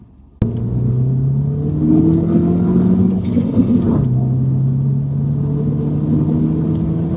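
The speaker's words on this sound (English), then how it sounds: "you can hear that like overrun burble a little bit now" A Mini Cooper S with a custom rear muffler starts up and runs nearby, a loud steady low rumble with a slight rise in revs and a soft burbling settle back to idle.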